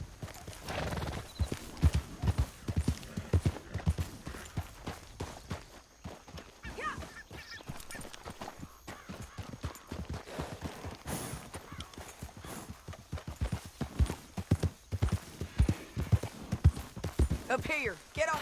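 Horses clip-clop along in Red Dead Redemption 2, hooves striking in a steady rhythmic gallop with an occasional whinny, under frequent talk from riders.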